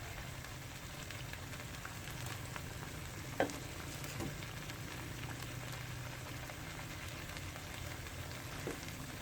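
Catfish pieces fry in a pan for a southern Thai spicy curry, giving a constant close crackling sizzle with occasional soft clicks and scrapes as the fish is turned, and no voices.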